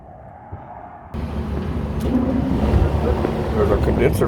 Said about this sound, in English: There's a condenser fan working properly.